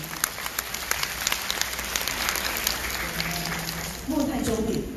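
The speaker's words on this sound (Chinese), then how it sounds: "掌声鼓励" An audience at a Taiwanese music and film stage show applauding, a dense, even wash of many hands clapping for several seconds, with a voice starting to speak over it at the end.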